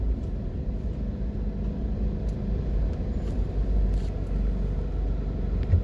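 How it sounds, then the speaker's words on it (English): A car drives through the Harbour View Plaza shopping centre in Jamaica, heard from inside as a steady low engine and road rumble with faint passing traffic noise and no talking. "now driving through the Harbour View Plaza."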